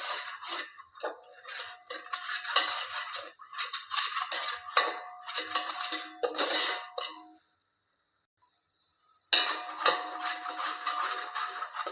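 Red chili powder sizzling in oil in a pan over a medium gas flame, a steady close crackle and hiss that drops out briefly and then resumes, with no talking.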